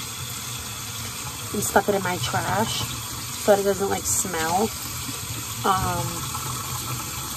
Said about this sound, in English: Rinsing out the pan from the chicken last night.